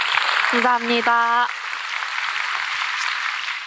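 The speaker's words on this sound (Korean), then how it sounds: "박수 한번 주세요." An audience at a Q&A talk claps steadily, the applause continuing throughout while a voice briefly speaks over it near the start.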